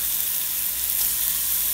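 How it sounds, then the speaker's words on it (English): About two pounds of chopped chuck sizzles steadily in a hot pan, a close, even frying hiss with no talking. "we're going to start sauteing"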